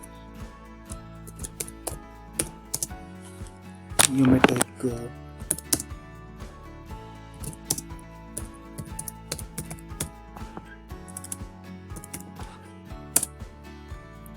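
Steady clicking of a computer keyboard being typed on up close, irregular keystrokes with a brief louder burst, while a voice speaks briefly.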